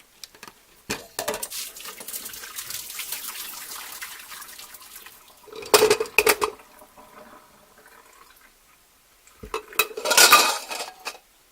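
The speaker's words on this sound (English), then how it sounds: "I'm just going to drain this in the sink." A pot of hard-boiled eggs is drained in a kitchen sink: metal pot clanks and water splashes come in three bursts, the loudest near the end, with quieter clatter and trickling between.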